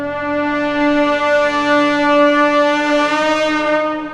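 An ancient brass acoustic tuner knocked against a wall in a video game rings out as a loud, steady, eerie tone rich in overtones, sustained for about four seconds without fading.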